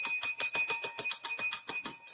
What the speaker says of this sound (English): Ringing that bell.